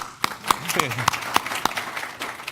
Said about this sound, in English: give some claps to Christy